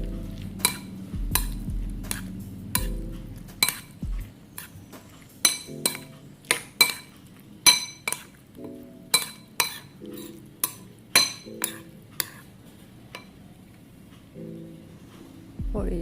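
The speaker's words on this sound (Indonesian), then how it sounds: "Nah, lalu kita aduk-aduk sampai tercampur rata." A spoon stirs a seasoned mixture in a bowl for a breakfast dish, producing irregular clinks and taps against the bowl, some sharp and close, while a person talks quietly in between.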